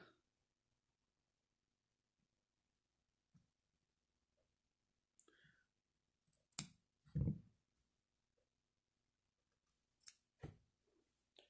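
A few quiet, sharp snips of scissors trimming a cotton wick come in scattered clicks against near silence, with a soft rustle in the middle.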